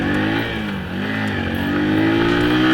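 A Rusi Macho 125 motorcycle pulls away on a test ride along a seaside road, its engine note climbing steadily as it accelerates, loud and near, with no voices.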